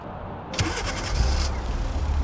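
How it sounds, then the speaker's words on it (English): A 2019-2021 Kia Forte (Cerato) with key ignition starts by remote starter: a short cranking burst, then the engine catches and settles into a steady, close low idle rumble. "And here you go, the car's running."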